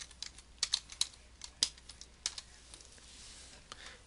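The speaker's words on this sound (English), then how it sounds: "Let's type on to-do list." Keys clatter at an irregular typing pace on a computer keyboard while text goes into a Microsoft Word 2016 document, with crisp close clicks and short pauses, no voices.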